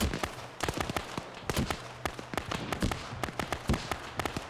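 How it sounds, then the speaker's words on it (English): Grenades go off in an outdoor airsoft game as a rapid string of sharp, distant pops and cracks. They come in irregular clusters at moderate volume over faint background noise. "What's all those explosions to the east?"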